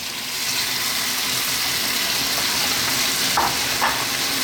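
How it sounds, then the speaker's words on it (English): Noodles frying in a wok for a fish and vegetable noodle stir fry: a steady, close, loud sizzle with a watery hiss that continues without pause, with faint clinks near the end and no talking. "next up we're going to drop in our noodles."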